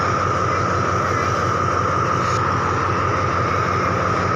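Express train 112 sits at Chum Saeng station in Thailand with a steady, loud, droning engine hum and rumble, continuous and unchanging, with no voices.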